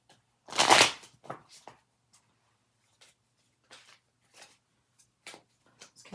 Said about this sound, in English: Let's give these one more shuffle.